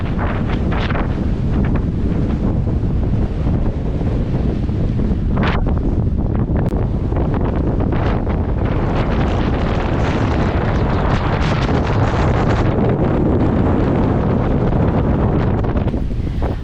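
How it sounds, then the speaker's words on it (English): Strong wind of about 25 to 35 knots gusts across an anchorage bay full of boats, roaring steadily and loud against the microphone with no talk. "the wind blew up to about 25 to 35 knots in the bay"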